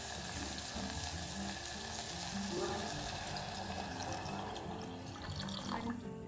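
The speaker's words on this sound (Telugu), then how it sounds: "ఇప్పుడు దీంట్లో వాటర్ పోస్తాను రసానికి సరిపడా" Water pours into a pot holding tamarind and salt, making a steady rushing splash that runs nearly the whole time at a moderate level and eases off toward the end.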